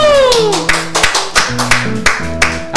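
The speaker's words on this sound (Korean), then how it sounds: "박수 치면 소리가 확 먹어요" Hands clap in a steady rhythm in a Korean radio studio, roughly three crisp claps a second, sharp and close over music that starts with a falling tone.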